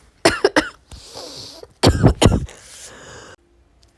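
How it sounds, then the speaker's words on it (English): A woman coughing hard in a fit of several harsh coughs close by, with a throat clearing between bursts and quiet pauses. "Sorry, I started coughing really bad."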